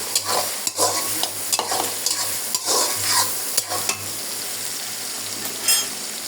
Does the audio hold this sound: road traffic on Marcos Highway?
no